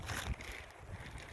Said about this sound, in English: Wow, kind of windy out here.